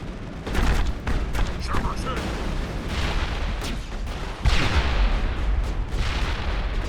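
Repeated grenade explosions and weapon fire in the video game Mass Effect 1, a dense barrage of booming blasts and crackling bursts with two heavier detonations, thick and chaotic throughout.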